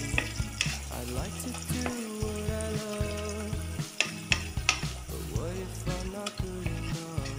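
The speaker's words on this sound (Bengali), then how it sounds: "নুন, হলুদ, খুব ভালো করে ভাজতে হবে।" Rice with salt and turmeric frying in a pan, a steady dense sizzle broken by repeated scraping stirs and clinks of a ladle, close and continuous with no voices.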